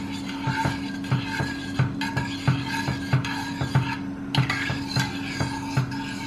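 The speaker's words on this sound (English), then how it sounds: "mix everything together." A spoon stirs basmati rice in a cooking pot, with repeated soft scrapes and clinks against the metal in an even rhythm over a steady low hum.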